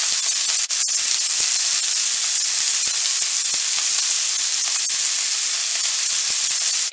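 Jerk shrimp searing in a hot pan, a steady loud sizzle and hiss with scattered small pops and crackles throughout, close up and with no talk.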